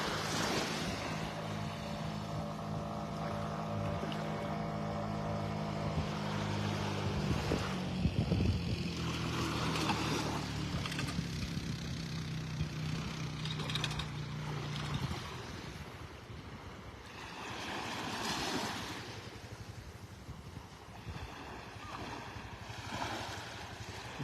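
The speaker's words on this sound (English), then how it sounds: "Just putting their jet skis, wave runners, whatever they are, into the water at the La Playa. That's what you hear in the background." Jet skis launched into the water at La Playa beach in North Naples, Florida, their engine drone running steadily in the background over surf and breeze, louder early on, then fading toward a quieter wash of waves.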